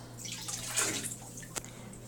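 Water sloshing and dripping in a toy basin during a sink-or-float game with small toys, soft and close with a few light splashes and a brief sharper plop near the end.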